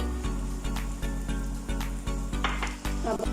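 Potato kebabs fry in mustard oil in a pan with a steady, loud sizzle and crackle, and light clinks of a utensil against the pan recur through it.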